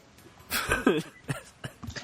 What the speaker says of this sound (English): I was coughing